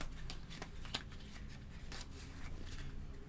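A deck of playing cards being mixed during a card trick: soft papery riffling and flicking close by, with a few sharper snaps, continuous and fairly quiet, with no talk.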